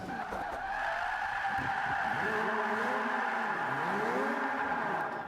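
A Mazda RX3 drifts in the Forza 5 racing game, its tires squealing continuously while the engine drones and wavers in pitch through the slide, loud and close, with no talking.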